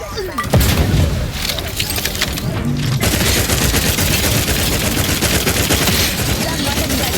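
Sci-fi gunfire from The Outer Worlds 2 on a Corporation C mission: a dense, continuous fusillade of rapid shots and bursts with booming impacts, loud and sustained throughout, mixed with game effects.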